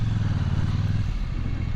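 KTM Duke 890R motorcycle engine pulling hard under acceleration, a loud, close, steady low rumble with throbbing exhaust pulses that hold throughout.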